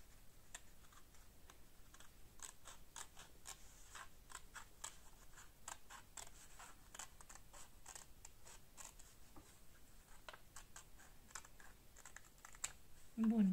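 Scissors snip along the outlines of paper circles in a quick series of faint, crisp cuts at a close, quiet distance, with a louder handling noise at the very end.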